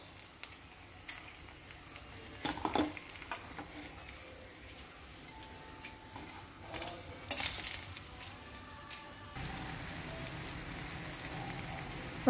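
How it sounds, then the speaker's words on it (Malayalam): Rava and potato snacks deep-frying in hot oil, a steady bubbling sizzle with scattered crackles and a few louder spatters, continuing alone without talk. "ബാക്കിയുള്ളത് നമുക്കിതേപോലെ വറുത്തെടുക്കാം"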